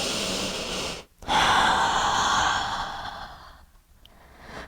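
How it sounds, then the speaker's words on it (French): Deep breathing during an intermediate hip mobility and glute-strengthening exercise: a long, loud exhale after a brief pause, then softer breath fading, with no talking. "Et prenez un instant ici pour respirer."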